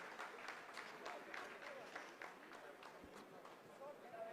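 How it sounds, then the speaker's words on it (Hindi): Scientists at ISRO applaud during the Chandrayaan-3 landing, a steady roomful of clapping heard faintly and at a distance, running continuously under a voice talking over it. "आप इस तालियों के गड़गड़ाहट को सुन सकते हैं"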